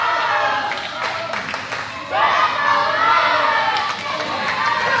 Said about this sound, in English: Crowd chanting Desperado throughout the building as Matt Starr goes to the top rope.